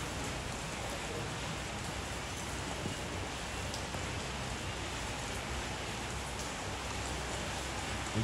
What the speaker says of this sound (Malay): Hujan-hujan pun aku redah ni.